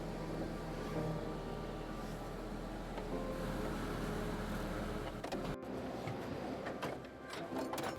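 A Jeep is driven into a shop with a continuous low engine hum and droning tones, and light rattles come through near the end. There is no talk.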